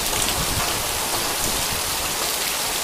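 Heavy rain pours down steadily outdoors, a dense, constant hiss of drops with no voices over it.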